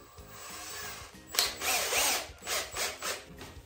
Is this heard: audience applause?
no